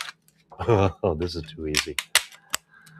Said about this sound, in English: we'll pull the supports off on this one